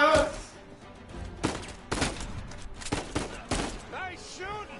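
Gunfire in Uncharted 4 cracks out in a series of sharp, separate shots spaced roughly half a second apart, loud and close, with game voices and shouting mixed in around them.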